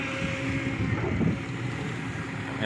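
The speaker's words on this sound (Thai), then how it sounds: "ทั้งลมทั้งฝุ่นได้พี่น้อง" Strong wind blows outdoors carrying dust, a steady loud rushing roar buffeting the microphone without pause.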